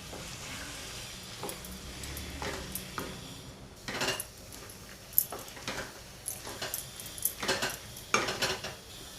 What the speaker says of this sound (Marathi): आता हे आपण असं परतवून घेऊया